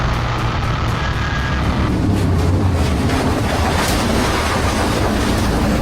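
A modified stock race car roars continuously from onboard while racing, a loud, steady engine drone with no break and no voices.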